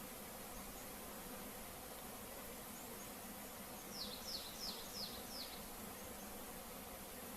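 Honeybee swarm being shaken into a blue hive box, a continuous dense buzzing hum with a faint series of brief chirpy accents midway.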